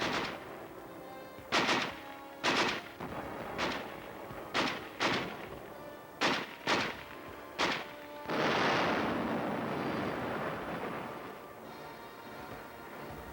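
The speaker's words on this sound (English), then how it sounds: "there's plenty of ammunition here to keep this big gun firing" A big gun firing repeatedly in Korean winter snow, a series of sharp booming shots at irregular intervals, followed by a longer rolling blast that fades away.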